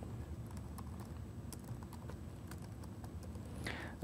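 Soft, quick clicking of computer keyboard typing while code is written, with irregular keystrokes over quiet background hiss and no speech.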